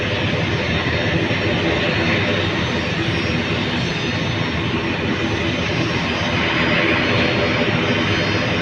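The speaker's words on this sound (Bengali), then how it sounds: "আরেকটি বিমান নামতেছে আকাশ থেকে" A Biman Bangladesh Airlines airliner descends to land at Dhaka's airport, producing a loud, steady, broadband engine roar that holds throughout.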